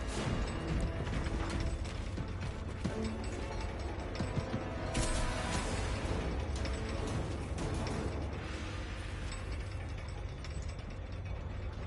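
A jammed crane drive mechanism in the video game Space Marine 2 grinds and ratchets continuously, a dense clattering of gears and metal with creaks and rattling bursts, loud and sustained without pause.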